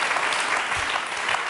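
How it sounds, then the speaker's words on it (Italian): Studio audience applause on an Italian daytime TV show, a dense continuous patter of clapping filling the whole moment, fairly loud and even. "ecco l'applauso che arriva per tutti gli amici della vita in diretta"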